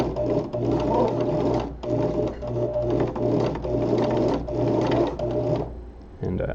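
A sewing machine runs in several steady bursts of rapid stitching along corner seams, loud and close, with brief pauses between runs and a short quiet stop at the end.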